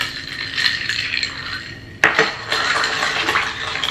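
A cocktail with maple syrup stirred in a glass, ice and spoon chinking and swirling in a continuous rattle, with a sharp clink near the middle, close and clear with no speech.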